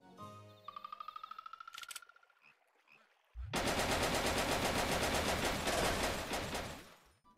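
Game tank fire in a C++ and SFML recreation of Wii Tanks: a quick run of rapid synthetic shots with bright tonal blips, then a loud sustained burst of noisy explosion-like rumble that fades.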